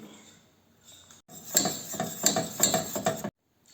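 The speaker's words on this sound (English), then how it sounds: "Here's the flour into melted butter and keep whisking." A metal whisk works flour into melted butter in a pan, giving a short run of bright clinks and scrapes against the pan in an uneven rhythm, close and fairly quiet, with a brief pause before it stops abruptly.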